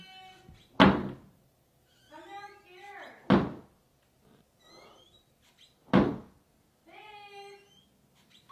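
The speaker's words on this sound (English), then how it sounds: "something slamming the door." A door slams three times, loud and close, around three in the night, with quieter meow-like or creaking sounds between the bangs and no talk over them.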